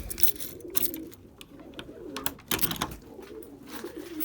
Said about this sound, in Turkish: Burada kuşlar var.